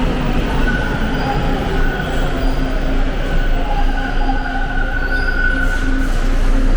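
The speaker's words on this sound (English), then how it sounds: "Oh, that train is too noisy." A packed Toronto subway train rumbles loudly through Carlton Station at afternoon rush hour, a steady close roar with high wheel squeal and tonal whine running throughout.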